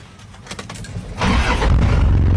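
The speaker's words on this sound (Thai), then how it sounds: "เดี๋ยวเรามาฟังเสียงเครื่องยนต์กัน" A starter cranks briefly, then a large Isuzu TFR 4x4 pickup truck engine catches and settles into a loud, steady rumbling idle close by.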